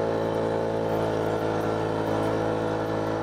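A Vespa Primavera 50cc scooter engine held at full throttle, a steady, continuous buzzing drone at close range with no letup, moving slowly over silt.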